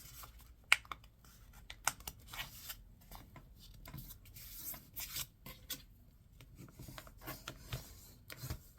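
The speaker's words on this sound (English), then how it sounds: "If you want a thinner candle, like I do, you're going to go ahead and fold that again." Book pages being folded into a Christmas candle decoration, with faint, close paper rubbing and soft creasing scrapes in a quiet room and one sharper tap early on.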